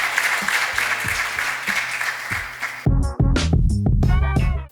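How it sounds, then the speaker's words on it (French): An audience at a startup meetup applauds with dense, continuous clapping that fades. A voice then speaks over a microphone. "Un applaudissement."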